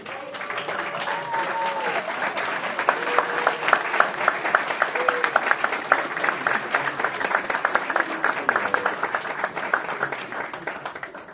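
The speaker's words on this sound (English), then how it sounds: "ask all of the graduates to stand and applaud you, their support system, and the ones who helped them get to this point." Standing graduates at a 2016 law school graduation ceremony applaud together in a dense, sustained round of clapping that holds steady at a moderate distance, with a few faint voices and tonal sounds drifting over the crowd.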